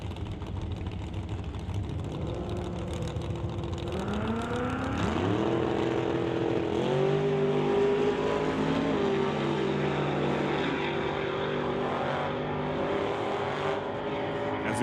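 A Ford F100 truck and a Mustang run a quarter-mile drag race, loud engines roaring and climbing steadily through the gears in a constant wall of sound with no pauses.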